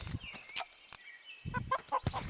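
A chicken clucks in short, close bursts, several quick clucks in a row with a brief pause between groups, over a faint steady background tone.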